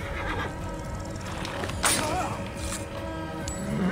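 A horse in a video game neighs and whinnies in a loud burst in the middle, over quieter ambient game sound and faint hoof clops.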